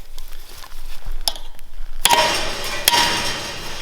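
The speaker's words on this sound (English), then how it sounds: "and then you give it a tap with the hammer" A hammer gives a few sharp metallic taps on a three-hole plate while fixing an old farm gateway, two clear ringing strikes standing out over background clatter outdoors.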